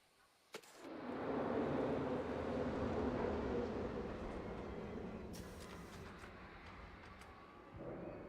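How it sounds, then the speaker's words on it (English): A train in a video game rumbling past, a sharp clank at the start followed by a broad steady roar that slowly fades, with faint metallic clicks near the end. "Is that train waiting on this one yet?"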